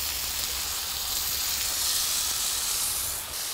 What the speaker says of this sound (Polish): Następnie wrzucamy boczek, który musi troszeczkę się też przesmażyć.